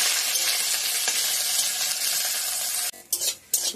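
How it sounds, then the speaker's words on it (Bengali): Khanakuni (Asiatic pennywort) leaves frying with a little salt in a pan, a steady close sizzle with stirring that breaks into a few pan scrapes near the end. "সামান্য অল্প লবণ দিয়ে দিব পরিমাণ মতো, দিয়ে এটা ভালো করে ভাজতে হবে"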